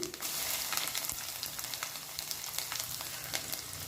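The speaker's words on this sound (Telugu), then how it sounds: "కొద్దిగా జీలకర్ర మూడు ఎండుమిర్చి కొద్దిగా మినపప్పు వెల్లుల్లి" Cumin seeds, dried red chillies, urad dal and garlic fry in hot oil with a steady, close sizzle broken by frequent sharp pops and crackles, with no talking.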